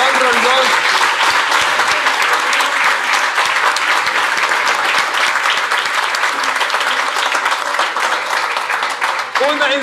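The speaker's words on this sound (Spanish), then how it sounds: "Un aplauso para nuestro invitado, León Rondón." A studio audience gives a guest a round of applause on a Guayaquil talk show, dense steady clapping at full volume throughout that tapers only at the very end.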